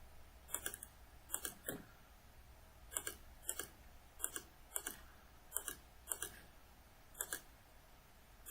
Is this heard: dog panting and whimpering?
no